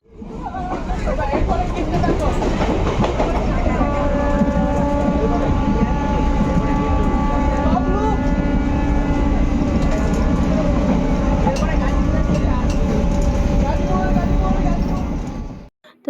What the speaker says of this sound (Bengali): এটা একটা দীঘা যাওয়ার ট্রেন ছিল